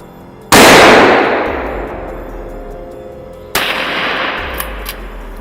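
Two loud rifle shots ring out during a wild boar hunt in an orchard, each a sharp close blast with a long decaying tail, the second arriving about three seconds after the first.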